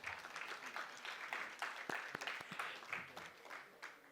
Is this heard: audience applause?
yes